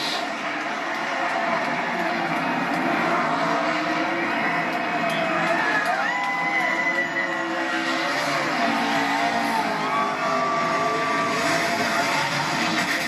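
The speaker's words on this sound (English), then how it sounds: "Steering wheel out the window as he does donuts in front of the crowd" Kyle Larson's NASCAR race car doing donuts at Kansas Speedway after winning the 2021 Hollywood Casino 400, a loud continuous engine roar with screeching tires, mixed with a cheering crowd and faint commentary.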